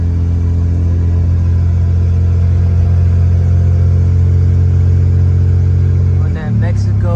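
Honda Civic FK8 with a loud, steady low engine drone and tire roar from inside the car, pitch dipping near the end as the revs change, with people talking over the noise.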